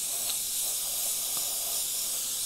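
An airbrush spraying paint over a paper template gives a soft, continuous airy hiss, close and even throughout, with only faint small ticks and no voices.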